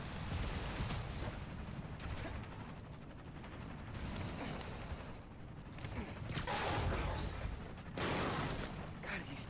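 Rapid bursts of gunfire in a snowy city blizzard in the Spider-Man: Miles Morales video game, crackling steadily under game sounds and voices for nearly ten seconds, with louder volleys toward the end.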